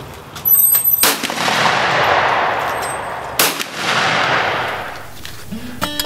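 Two loud shotgun blasts at a skeet shooting range as clay targets are fired on, each sharp crack followed by a long echoing decay across open ground, about two seconds apart, with no talk.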